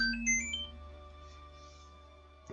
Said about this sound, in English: Oh my god, phone. Maybe you should stop going off,